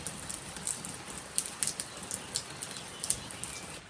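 Rain falls steadily in misty Tuscan countryside, a soft continuous hiss dotted with sharper drips and patters, fairly close and unaccompanied by voices.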